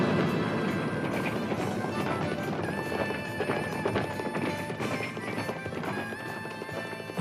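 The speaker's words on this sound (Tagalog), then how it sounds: "Oo, may umahabol pang itim na kabayo sa likod." Horses gallop in a race: dense, loud, continuous pounding hooves with occasional whinnies, all under a busy, full soundscape with no talk.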